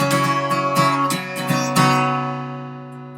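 Acoustic guitar chords are strummed several times in quick uneven strokes, then left to ring out and fade.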